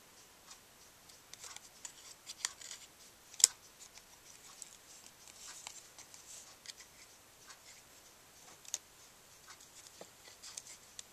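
Fine tip scissors fussy-cutting a stamped paper image, producing faint, close, sparse snips and ticks at irregular intervals with one sharper snip, and no talking.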